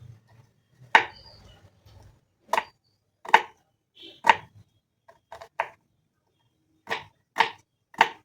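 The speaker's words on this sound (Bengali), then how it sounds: "একটা পেঁয়াজকে টুকরো করে নেব" An onion is chopped into pieces with a knife on a board, giving about ten crisp, separate thuds at an uneven pace, close and clear against a quiet background.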